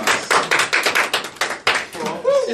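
A small audience claps loudly and unevenly in close bursts at the first annual LCFA awards ceremony, and a voice comes in near the end.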